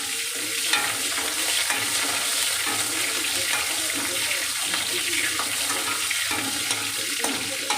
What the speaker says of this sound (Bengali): আমটাকে এইভাবে হালকা ভেজে নেব।